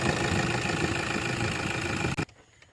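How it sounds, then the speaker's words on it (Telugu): A car engine idles smoothly after starting, a steady close rumble that holds for about two seconds before being switched off and quickly dying away. "ఇంజిన్ సౌండ్ చూసుకోవచ్చు సార్."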